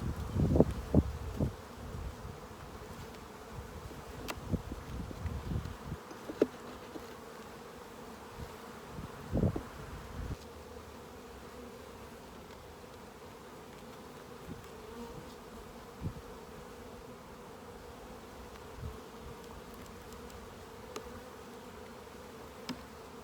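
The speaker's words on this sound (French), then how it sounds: "La colonie en haut ici, l'essaim, a reçu un boost d'abeilles." A dense, low hum of a honeybee swarm buzzing continues the whole time as the hive is opened, with occasional louder passes and scattered knocks and rustles, strongest at the start.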